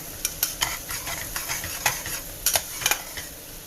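A pan of tarka dhal sizzles while a utensil scrapes and taps repeatedly against the pan, giving a close, irregular rhythm of clinks over a steady low hiss.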